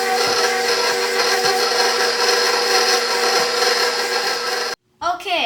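Snickerdoodle cookie dough churning in an electric mixer, a loud continuous whirring hum that cuts out abruptly near the end, followed by a short burst of rubbing and scraping.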